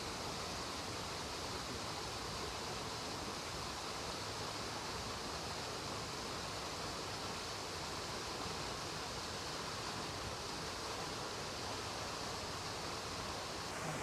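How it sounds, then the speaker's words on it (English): Water pours down a waterfall in a steady, broadband rush, a constant hiss and roar that stays even and fairly soft from start to finish with no voices. "Slowly head up that waterfall there"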